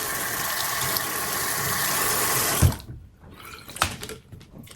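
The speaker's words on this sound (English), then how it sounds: "And then you can just simply rinse it off." Water runs from a tap in a steady, loud rush while an item is rinsed under it, then cuts off abruptly, leaving a few drips, splashes and handling clatters.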